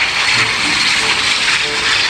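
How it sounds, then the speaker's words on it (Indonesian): A jet aircraft in the video game Jurassic World Evolution 2 gives off a continuous loud engine roar and hiss that holds steady throughout, with no voice over it. "Di sini ada pesawat jet."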